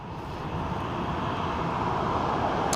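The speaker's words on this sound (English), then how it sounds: "next up we have the A330 in from Faro in Portugal" An Airbus A330 airliner arriving at Dublin Airport from Faro makes a steady, broadband engine roar that swells gently louder across the short stretch, with no voices over it.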